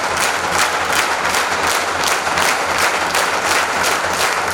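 Sustained audience applause fills a hall at a motivational team event, dense steady clapping with rhythmic swells, loud and continuous throughout with no voices over it.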